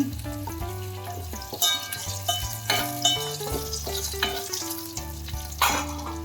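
Gunda fruit for a gram-flour sambharo is stirred in hot oil, giving a close, steady sizzle with repeated scraping strokes of a spoon against the pan and a melodic backing running underneath.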